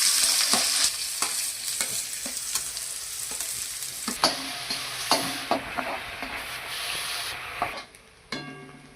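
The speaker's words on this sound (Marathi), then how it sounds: "हे आता मी तेलात टाकणार आहे कांदा" Finely chopped onion hitting hot oil for pav bhaji, a loud sizzle with repeated spatula scrapes and knocks against the pan, easing off near the end.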